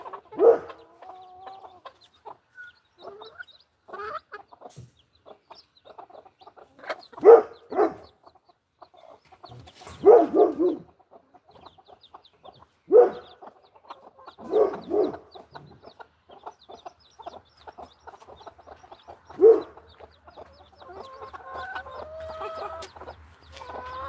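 A farm flock of chickens clucking and squawking in scattered, uneven bursts, fairly close, with quiet stretches between calls.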